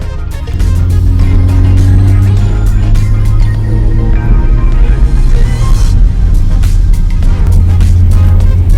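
A 2001 Honda Accord with an oil leak at the VTEC solenoid runs at operating temperature during a drive, producing a loud, continuous low engine hum and road rumble with scattered clicks and rattles throughout.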